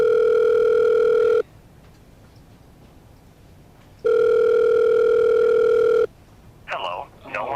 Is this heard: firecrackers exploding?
no